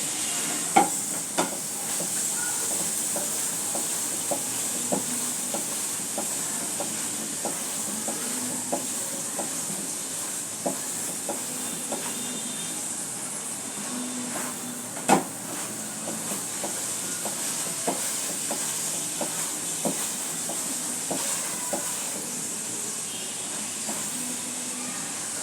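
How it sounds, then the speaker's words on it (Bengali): Rumali paratha frying in oil in a pan, a steady broad sizzle throughout with faint periodic clicks and taps of a utensil, no voices. "তেল দিয়ে নিয়ে পরোটাটা ভেজে নেব এভাবে করে, বাকি পরোটাগুলো এভাবে ভেজে নেব।"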